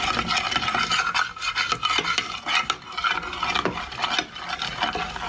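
A utensil briskly stirring and whisking powder into warm liquid to dissolve it, a continuous close rasping scrape with quick rhythmic strokes and occasional clinks against the container, no voices.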